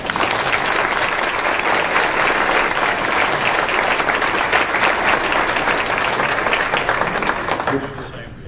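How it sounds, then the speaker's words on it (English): A campaign kick-off crowd breaks into a loud, sustained round of applause for a friend's 65th birthday, thick clapping and some cheering voices carrying steadily before fading at the very end. "Let's all give him a big round of applause"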